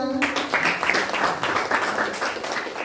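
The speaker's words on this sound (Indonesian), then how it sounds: "Tepuk tangan untuk kelompok 2" A classroom group claps for the second student team after its presentation, a brisk patter of hands at a fairly steady level for a few seconds, with a brief voice at the very start.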